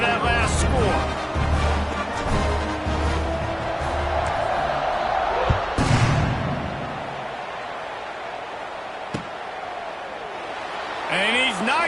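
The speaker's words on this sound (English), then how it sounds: "this crowd is buzzing after that last score" Football stadium crowd buzzing after a score, a steady roar of many voices with scattered cheers and whoops, heard under continuous play-by-play commentary.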